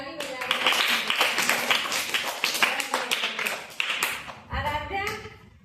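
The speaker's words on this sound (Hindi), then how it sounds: "ताली बजा इनके लिए।" Children in a Hindi lesson clapping their hands in quick, uneven bursts of sharp claps, mixed with voices talking throughout.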